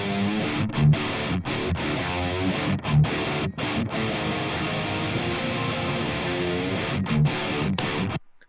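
Heavy distorted electric guitar played through a Thermionik amp plugin chugging loud and close, with brief rhythmic gaps between palm-muted riffs before stopping abruptly.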